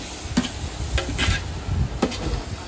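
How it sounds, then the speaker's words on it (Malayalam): Blended tomato, about a kilo, being stirred into biriyani masala in a pot, with several soft scraping strokes of a spoon over a faint sizzle, close and alone. "അത് നല്ലപോലെ ഒന്ന് ഇളക്കി കൊടുക്കാം"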